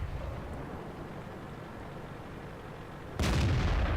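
A tank gun fires in the World of Tanks video game, a single loud, broad boom that cuts in abruptly after a stretch of steady low engine rumble and battle ambience.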